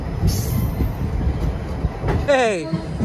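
A train at Salem Junction railway station rumbles steadily and close, with a brief high wheel squeal near the end.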